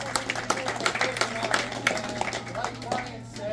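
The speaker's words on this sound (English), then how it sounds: "So give them a round of applause" Applause for the coaches at the Saugus Spartans senior uniform reveal: a crowd claps in quick, scattered bursts through the whole stretch, with voices talking over it at moderate distance.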